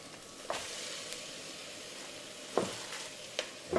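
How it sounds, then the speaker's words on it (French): Cabbage goes into a hot pan, and a steady close sizzle of frying runs throughout, broken by a few sharp knocks and scrapes as it is stirred, with no talking. "On va maintenant rajouter le chou."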